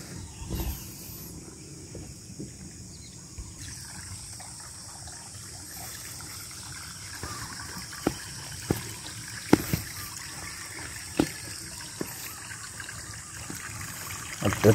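Spring water in a farm field trickles and flows steadily at low level, with a few faint knocks and clicks on top and no talk.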